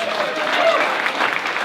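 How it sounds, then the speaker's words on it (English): Audience applause at a public brand-battle event, a loud, dense burst of clapping from a crowd in a room, steady for the short stretch. "Can we give a round of applause for this space?"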